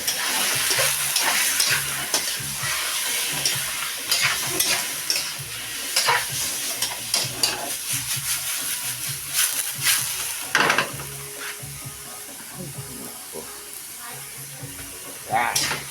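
Meat for pochero sizzles steadily in a pan while a utensil stirs and scrapes it in irregular clatters, close and continuous, with occasional voices in the background.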